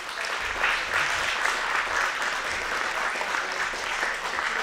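Sustained applause from an audience after a Noh movement workshop, steady and full throughout with no pauses, crowd clapping filling the room at moderate loudness.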